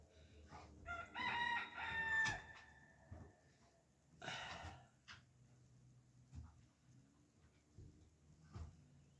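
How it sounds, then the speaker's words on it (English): Several roosters crowing on a quiet rural property half a mile from a county road, a few faint, fairly distant calls spaced apart against a calm outdoor background, no talking. "we got the roosters going, and there's about 3 of them I noticed coming up."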